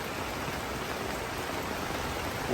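Heavy rain falls at an evening camp on Mount Ciremai as a dense, steady hiss of downpour that stays even throughout and is heard alone at close range.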